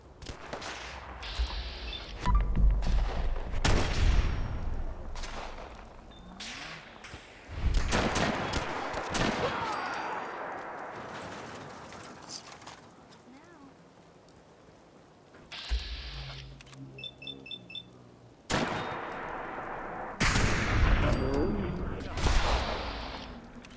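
Gunfire in Fallout 4 crackles out in several short bursts of loud shots, separated by quieter stretches of mechanical clicks and game ambience, with some talk mixed in.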